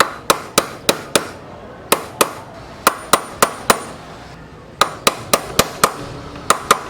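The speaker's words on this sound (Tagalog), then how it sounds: "tsaka natin pukpukin ng martilyo para hindi masira yung bago" A hammer strikes a new steering ball race on a Honda XRM 110 motorcycle, driving it into place. About eighteen sharp, ringing metallic blows land close by in quick bursts of three to five, separated by short pauses, with no talk.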